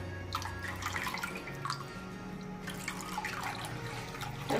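A glass and a half of water poured into shev bhaji curry, a soft close splashing and trickle with faint clinks, quiet and uneven.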